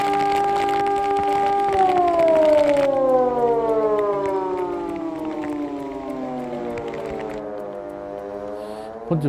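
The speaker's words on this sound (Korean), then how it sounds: "고막을 찢을 듯 새벽 공기를 가르는 사이렌 소리가 주민들의 단잠을 깨웠다" A loud siren wails steadily over a village at dawn during a typhoon, its tones sliding slowly downward in long harmonic sweeps, sustained and droning with no voices present.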